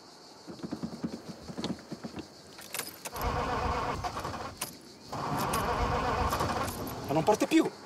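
Car that fails to start, keys jangling in the ignition as the starter cranks in two long grinding bursts without catching, with voices talking nearby.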